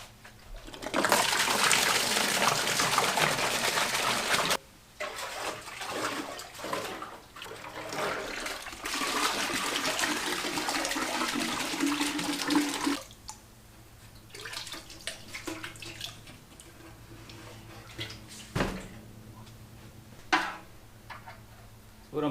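Water rushes loudly into and out of a metal fuel tank being flushed clean after rust electrolysis, with sloshing and splashing bursts, then quieter dripping and occasional clanks.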